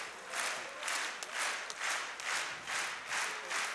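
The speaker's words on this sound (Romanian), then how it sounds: "Și iată aplauze, dar nu știu pentru cine." Crowd applause at a kickboxing match, steady clapping in repeated surging waves about half a second apart, moderately distant and fairly faint, with no clear talk over it.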